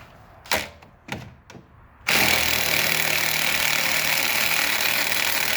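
Impact wrench spinning off the nut on a shock's upper stud of a 1998-2011 Ford Ranger, with a 15mm deep socket on an extension: a few short bursts, then one loud, continuous whirring rattle held close by.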